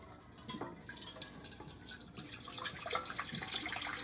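Water trickles and drips through a sieve at close range, a steady wet patter with scattered individual drops throughout.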